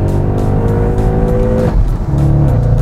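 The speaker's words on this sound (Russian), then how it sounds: "Но слышно впуск очень сильно" Audi RS6 engine roaring hard under acceleration on an open road, a loud continuous drone with strong intake noise and a rising pitch that drops briefly at a gear change before climbing again, with no talking.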